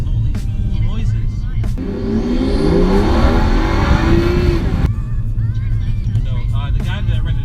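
A modified BMW 435i engine revs sharply for a few seconds, a rising, raspy burst that cuts off abruptly, with quieter engine and road noise before and after.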